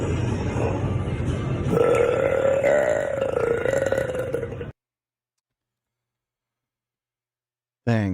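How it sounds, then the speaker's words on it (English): A man lets out one long, loud, rumbling burp lasting several seconds, followed by silence and a brief sound at the very end. "Today we're going to show you how to burp."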